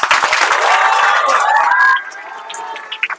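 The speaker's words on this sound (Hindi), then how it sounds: "चलिए एक बार ताली बजाइए आप लोग" An audience at a coaching institute in Motihari breaks into loud, dense clapping that swells for about two seconds, then thins out with a few scattered claps and some crowd noise.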